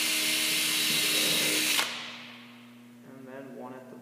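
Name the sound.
power drill pre-drilling wood for chest box joints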